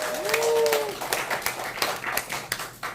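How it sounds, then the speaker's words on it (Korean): An audience at a speech and laughter-coaching class claps in a short burst of brisk, fairly close handclaps lasting a few seconds. "박수 한번 쳐요."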